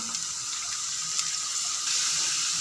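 A cup of milk pours into flour in a bakery-style chicken bread recipe, producing a steady, close liquid splashing hiss that swells slightly toward the end, with no talk.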